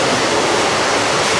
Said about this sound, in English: look at this water fountain